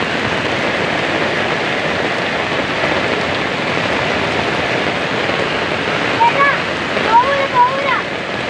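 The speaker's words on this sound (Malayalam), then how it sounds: "കോടഞ്ചേരി, ആനക്കാമ്പൊയിൽ, ചെമ്പുകടവ് പ്രദേശങ്ങളിൽ മഴ ശക്തമാണ്" Heavy rain pours steadily over the hilly areas of Kozhikode, Kerala, around Kodanchery and Anakkampoyil, a dense, loud, continuous wash of water with no let-up.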